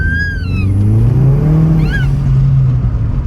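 A Mk4 Jetta 1.8T with a Stage 2 tune, revived after three years unused, accelerates hard, its engine note rising loudly and steadily close by, with brief high whistling chirps over the drone.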